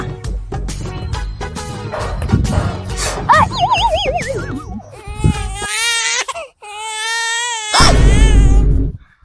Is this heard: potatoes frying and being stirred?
no